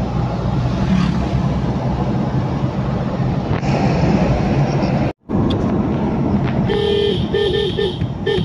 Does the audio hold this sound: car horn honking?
yes